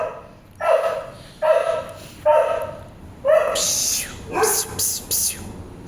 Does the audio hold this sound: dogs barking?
yes